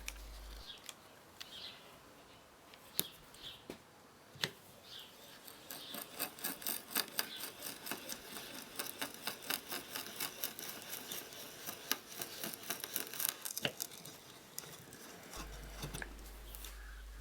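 A hand brace fitted with a drill chuck bores holes in wood, making a fairly faint, steady scraping and rasping with rhythmic crunches that grow busier as the bit cuts deeper.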